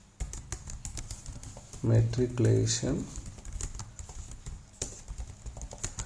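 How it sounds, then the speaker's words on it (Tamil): Typing on a computer keyboard, a run of rapid light clicks heard throughout, close and fairly quiet, with a voice speaking briefly over the middle of the keystrokes. "இப்போது இந்த டெக்ஸ்ட் பாக்ஸில் இப்படி ட்ரா பண்ணிவிட்டு ஸ்கூல் நேம் நீங்கள் டைப் பண்ணணும்."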